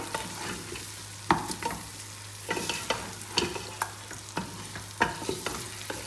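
Whole goat trotters are fried with masala in a pot, a continuous close sizzle punctuated by regular scraping strokes of a spoon stirring through the thick mixture.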